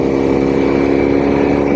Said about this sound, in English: this engine and this bike does rattle